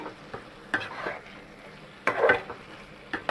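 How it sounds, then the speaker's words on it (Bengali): Potatoes and spices frying and being stirred in a pan for mushroom kosha, with a steady low sizzle and several louder scraping stir strokes at irregular intervals, close by, no talk. "আলু দিয়ে আমি এক থেকে দেড় মিনিট মশলা কষাই নিয়েছি ভালো করে"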